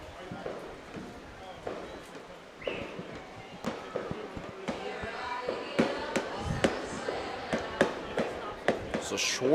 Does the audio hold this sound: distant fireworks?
yes